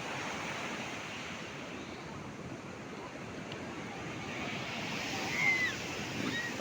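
Sea waves break on the beach at Gopalpur, Ganjam, during a picnic, a steady broad roar of surf with some wind noise, one wave swelling slightly louder near the end, with no talk.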